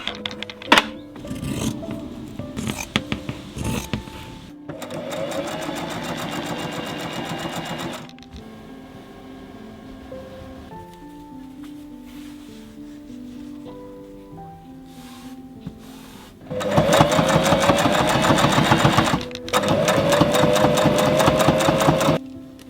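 A sewing machine stitches a fabric pocket organizer in bursts, its fast needle chatter running loud and steady, then stopping with thunks and quieter pauses between runs.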